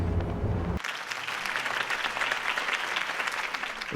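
Crowd applause in the Batman Telltale Series video game: after a brief low rumble, a broad, steady wash of many hands clapping fills the rest of the stretch, moderately loud and sustained without a break.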